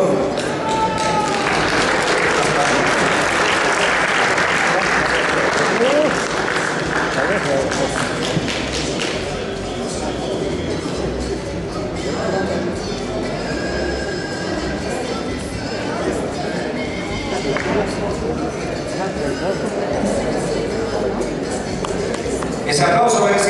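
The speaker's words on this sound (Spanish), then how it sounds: "Ese aplauso merecido, por favor." An audience at an artists' recognition ceremony applauds continuously, a dense, steady wash of clapping that stays loud throughout.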